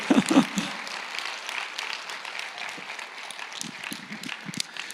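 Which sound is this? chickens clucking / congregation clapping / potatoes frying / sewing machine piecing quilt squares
congregation clapping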